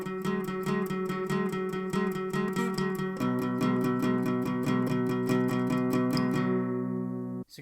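Guitar intro of a song in a cover version, played as fast, even, driving picked notes with a ringing open string, steady and close, then cut off sharply near the end.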